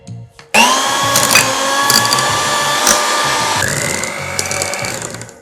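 An electric hand mixer running steadily on low speed, blending cupcake batter for rainbow cupcakes; a continuous whirring drone starts abruptly and holds close and fairly loud, with a slight pitch shift partway through.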